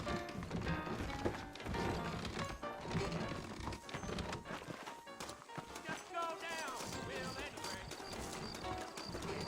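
Horse hooves clip-clop in the Red Dead Redemption western game, saddled horses stepping in an uneven rhythm close by, with an occasional whinny and voices talking over them.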